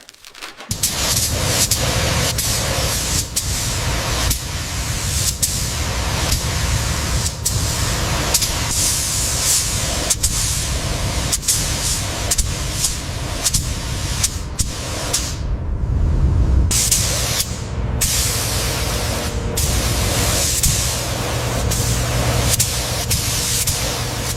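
Green paint sprayed onto the metal cab of a toy-style train during restoration, a loud continuous hissing spray lasting over twenty seconds with brief pauses and short interruptions, alone and close.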